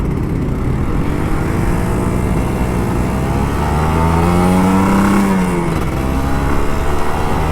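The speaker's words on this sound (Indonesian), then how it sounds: "Enak kan ngegas kayak gitu" An old Kawasaki Ninja RR 150 motorcycle engine, heard up close, idles with a raspy buzz and then revs, its pitch climbing and falling once before it settles back to a rough idle.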